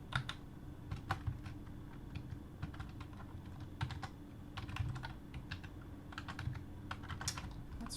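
Keys clatter on a computer keyboard in quick irregular bursts of close, crisp clicks, separated by short pauses, over a low steady hum, with no talking.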